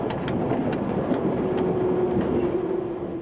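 A London Underground Bakerloo line train runs steadily along the track, with a continuous low rumble, a faint sustained tone and soft, evenly spaced rail clicks.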